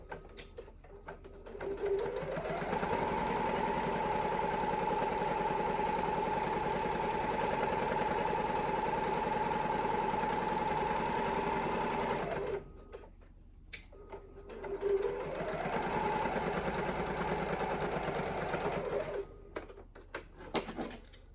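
A sewing machine stitches a bag lining in two long runs, a steady mechanical whir that ramps up, holds for about ten seconds, stops briefly, then starts again, fairly close with no talking.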